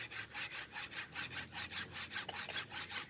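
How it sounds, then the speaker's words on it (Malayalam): Rhythmic back-and-forth strokes of a hacksaw cutting through PPR plastic water pipe, about a dozen even rasping passes at a steady pace, close and fairly quiet, with no talk. "അത് കാരണം ഫ്രൈമിട്ട് കട്ട് ചെയ്യാണ് പി പി ആറിൻ്റെ പൈപ്പാണത്"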